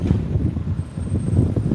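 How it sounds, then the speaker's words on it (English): Gusty wind buffets the microphone outdoors at a fishing spot, a steady low rumbling roar that swells and dips for a moment with no one speaking. "sorry about the wind. It's getting kind of windy."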